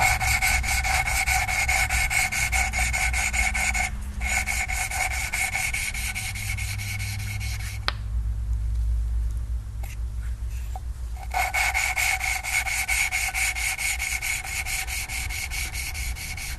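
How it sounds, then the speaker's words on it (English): Engine valves on a Subaru are lapped by hand, making a rapid rhythmic grinding rub that repeats steadily. It pauses in the middle for a few seconds of quieter handling, then resumes. "Lapping valves feels very zen, except that my hands are starting to hurt."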